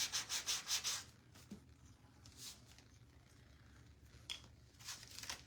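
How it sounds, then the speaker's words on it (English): Rhythmic hand sanding with a quick burst of back-and-forth rasping strokes at the start, then scattered lighter scrapes and rubs, close by. "All right, almost done with all the sanding"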